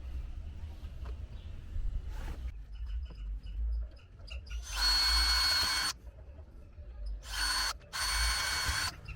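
A power drill bores holes into a Peugeot car frame for a brake light repair, whining loudly in one long run and then two shorter bursts, each with a steady high-pitched tone over a low background hum.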